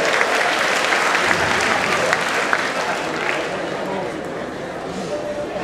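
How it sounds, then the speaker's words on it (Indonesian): A crowd at a theatre performance applauds loudly and continuously, dense clapping filling the space and slowly tapering off slightly toward the end. "Tepuk tangan bangga gede."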